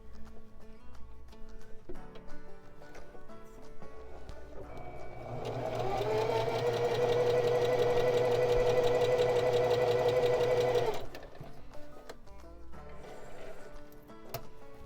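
A home sewing machine runs a long straight seam on a Seychelles top, a steady mechanical whir for about five seconds that rises out of quieter handling noises and then stops.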